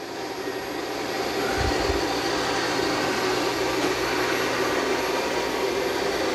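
An ECOVACS DEEBOT T20 Omni robot vacuum and mop runs with a steady, fairly loud whirring drone that fills the whole stretch, with a brief low thump partway through and no voices.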